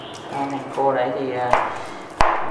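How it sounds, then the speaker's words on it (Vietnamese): A knife slices chili peppers thinly on a cutting board in a kitchen, giving a few sharp, close taps against the board under a person's speech. "thái cho một ít ớt thái vát mỏng"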